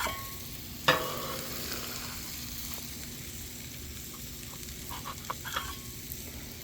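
Onions cook in a pan with a steady, close crackling sizzle, opened by one sharp clink of a utensil, followed later by a few light stirring taps against the pan.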